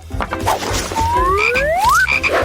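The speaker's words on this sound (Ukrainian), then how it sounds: "А тепер покладемо жабу всередину" A frog croaks in a bright, cartoon-like way in a food-layering challenge scene, with rising chirping calls repeated a few times, close and loud over a steady background.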